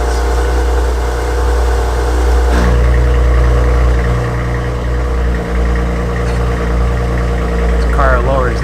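A 2019 Maserati Levante S engine idles with a steady low hum that swells into a deeper, louder drone partway through as sport mode engages, with a brief mechanical whir near the end.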